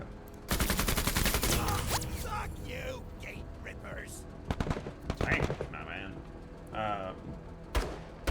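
Bursts of gunfire from a deployed tripod gun in the video game MENACE, a loud sustained rattling volley followed by scattered sharper shots and impacts, with a voice talking in between.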